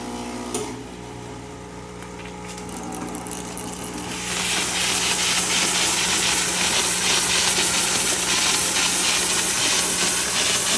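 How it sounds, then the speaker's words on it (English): A Chief Steamer 155 220V steam cleaner on maximum steam, detailing a car door: a loud, continuous hiss bursts on after a quieter start and keeps blasting steadily, with a low machine hum underneath. "Blow it out again with dry steam."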